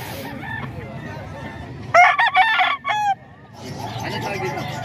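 A rooster crows loudly and close by at a poultry market in Baliwag, a single raspy call standing out over a low crowd murmur and softer background clucking.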